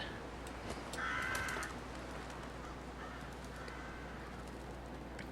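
Crows cawing in Fallout 4, a few distant, faint caws rising over a quiet outdoor ambient hum, with no talking.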